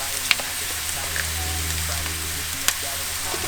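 Chopped onion, minced garlic and mushrooms sizzle in oil in a grill-side skillet, a loud steady hiss with a few sharp pops and crackles, close up.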